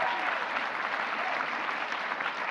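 Steady, dense applause from a graduation ceremony crowd as award recipients are honored, a continuous wash of many hands clapping at even loudness throughout.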